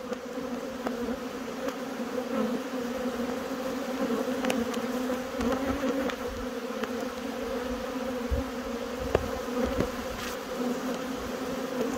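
Steady buzzing drone of many bees flying around their hive close by on Dartmoor, a dense continuous hum with occasional individual insects passing louder near the listener.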